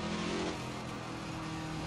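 Ford GT40 race car engine in Assetto Corsa holding a steady loud drone at high revs, with a continuous buzzing roar and no talk over it.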